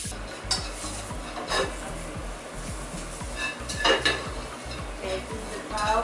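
Onions stir-fry in a pan for japchae, a steady sizzle broken by repeated scraping and clinking of a utensil against the pan, close and moderately loud.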